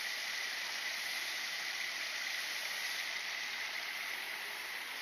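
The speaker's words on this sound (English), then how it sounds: "Sound of running water outside your room." Running water flows outside a new housing complex, a soft, continuous hiss-like rush that stays even and distant for the whole stretch, with nothing else standing out.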